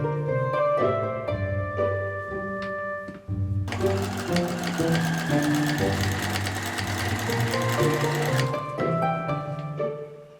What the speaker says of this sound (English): sew along that side.